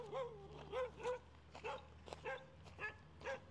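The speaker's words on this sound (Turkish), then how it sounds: "Lan köpek bize yapıyor." A dog barks about six times in short, moderately close bursts with brief gaps between them, heard outdoors near a turquoise beach in Lombok, Indonesia, with no talk over the barking.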